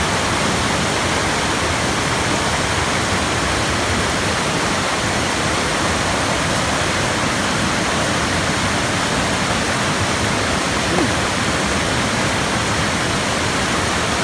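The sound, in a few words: mountain stream water flowing off the Blue Ridge Mountains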